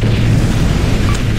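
Deep, rumbling blast of an enemy battleship exploding as it sinks in the naval game Warship Gunner 2, a loud continuous boom filling the whole moment with no break.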